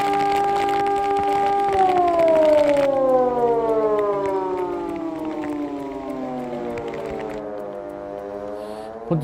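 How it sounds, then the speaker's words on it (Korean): A loud air-raid warning siren wails steadily through the night during a typhoon, then its pitch slowly winds down as the tone falls and fades, with no other sounds around it. "고막을 찢을 듯 새벽 공기를 가르는 사이렌 소리가 주민들의 단잠을 깨웠다"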